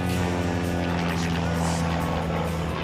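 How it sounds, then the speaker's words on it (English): Propeller stunt plane in flight, a loud, steady engine drone with a continuous buzzing hum heard from inside the cockpit, with faint voices beneath. "As well as fly his stunt plane"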